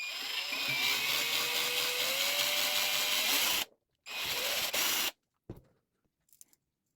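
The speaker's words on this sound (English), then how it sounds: "I got to drill my holes for the wire." A small power drill whines steadily for a few seconds drilling wire holes in a handmade musky lure, cuts out, then gives a shorter burst before a couple of faint clicks. Close and fairly loud.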